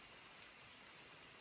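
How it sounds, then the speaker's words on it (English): Soft, steady patter of rain falling on a trail shelter nearby, a continuous quiet hiss with no voices. "I think you can hear the rain in the background."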